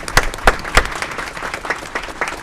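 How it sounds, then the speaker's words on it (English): Applause at a city council meeting for newly sworn board members: a short burst of clapping in the room, with several louder claps standing out early and quieter, scattered claps continuing after them. "Let's give them a round of applause."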